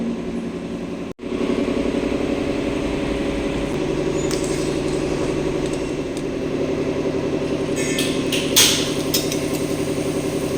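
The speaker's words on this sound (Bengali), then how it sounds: "বাইরে যেহেতু জেনারেটর চলছে সেজন্য ভীষণ একটা আওয়াজ হচ্ছে।" A generator runs steadily outside during a power cut, a loud continuous mechanical drone with a low, even hum that persists throughout, briefly interrupted near the start, with a few faint higher clatters later.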